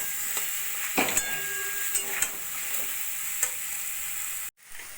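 Sliced onion and thin strips of capsicum sizzle steadily in a frying pan for reshmi chicken curry, a continuous close hiss broken by a few stirring scrapes and clatters, ending in a brief cut-off.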